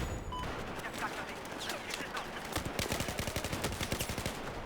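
Rapid automatic gunfire in Battlefield 4 Hardcore Mode, dense bursts of shots rattling in quick succession, loud and close, with a faint voice in the background.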